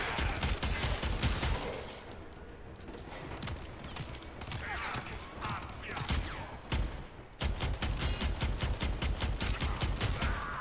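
Rapid bursts of automatic gunfire from the player's weapon in Warframe, loud and close, with a long rattling volley at the start, scattered single shots in the middle and another sustained rapid burst at the end.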